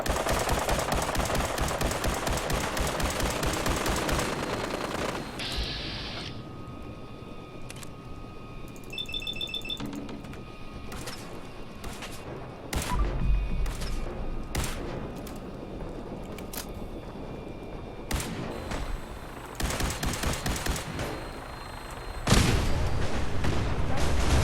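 Rapid gunfire in Fallout 4 targets the pilot of a flying aircraft, with sustained dense bursts and sharp individual shots over a constant engine-like roar, loud and continuous throughout.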